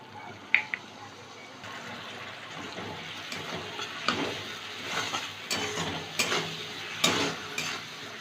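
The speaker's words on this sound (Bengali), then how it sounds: "সামান্য একটু জল দিচ্ছি।" Water poured into a pan of ghugni pea curry seasoned with salt, turmeric and Kashmiri chilli powder. A brief clink comes first, then liquid hissing and bubbling with scattered stirring clatters, close by.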